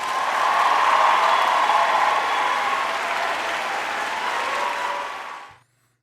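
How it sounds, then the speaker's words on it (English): A crowd claps in a sustained round of applause, dense and steady for about five seconds before cutting off abruptly. "give Benjamin Rodriguez a round of applause"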